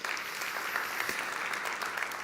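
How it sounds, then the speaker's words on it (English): Steady audience applause at an innovation and technology stage event, a dense, even wash of many hands clapping at moderate distance, sustained without break and with no talking over it. "A round of applause."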